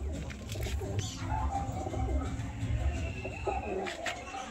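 Face of Beauty pigeons coo softly and repeatedly in a home loft, their low, rolling calls over a steady background hum.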